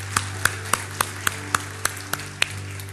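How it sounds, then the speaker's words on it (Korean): Sparse, sharp claps from a church congregation during a Sunday worship service, about nine distinct slaps spaced roughly evenly, moderately near, over a steady low hum with no talk. "우리 한번 하나님께 감사와 영광과 박수를 드리겠습니다"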